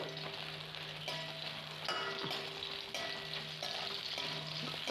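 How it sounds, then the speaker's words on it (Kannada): About fifteen chillies fry in a little oil, producing a continuous close-up sizzle with occasional scrapes and stirring clatter, steady in loudness throughout and without any talking. "ಸ್ವಲ್ಪ ಎಣ್ಣೆಯಲ್ಲಿ ಸ್ವಲ್ಪ ಹುರಿಬೇಕಷ್ಟೆ ಮೆಣಸನ್ನು"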